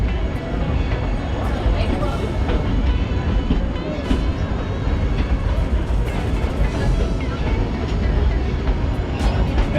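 The Dollywood Express, a seven-car excursion train, rolls around a bend in a continuous loud rumble and clatter of wheels and cars, heard close from on board, with a steady wash of motion noise throughout.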